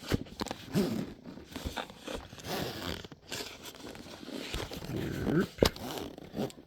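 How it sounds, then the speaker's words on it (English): A zippered case for a Trifield EMF meter is unzipped one-handed, giving a few quick rasping zipper pulls mixed with crinkly handling and rustling noise, close and fairly quiet. "Let me see if I can one-handed unzip it."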